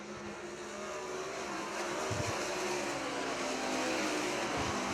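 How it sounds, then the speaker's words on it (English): Sprint cars racing in a heat event at Crystal Motor Speedway, a dense, sustained engine roar that slowly swells, with a few louder thumps partway through and no talk. "Setting a fast pace in this third and final heat event for the sprint cars"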